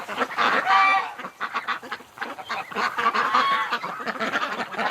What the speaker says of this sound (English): Look at that duck.